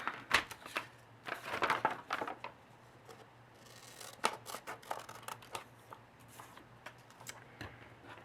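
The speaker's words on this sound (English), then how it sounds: "And I just cut along the folds." Scissors snip through folded paper for a spell page, a quick series of crisp, close cuts and rustles in uneven bursts, quiet and without talk.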